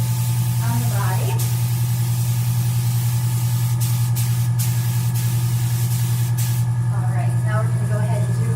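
An airbrush sprays tan onto a person's body during a spray tan session, with a constant, loud compressor hum and hiss that runs unbroken through the whole stretch.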